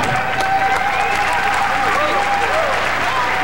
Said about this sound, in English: A round of applause for his opponent, former champion Marianne Gordas Almaguer